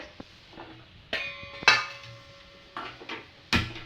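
Five ripe tomatoes set down one by one into a metal idli steamer pot, giving a few sharp knocks and clinks spaced apart with quiet gaps between, close and fairly loud.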